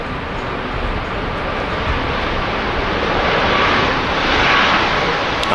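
A plane's engines roar at Manchester Airport, a steady, loud broadband rumble that swells slightly toward the end, with no voices.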